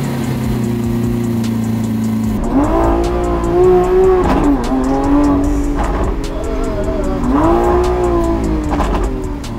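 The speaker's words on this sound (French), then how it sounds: "C'est ça une Lamborghini, tu vois? Un pur produit de brutalité." A Lamborghini engine idles with a low steady rumble, then revs hard several times in rising, wavering bursts, loud and close with no speech over it.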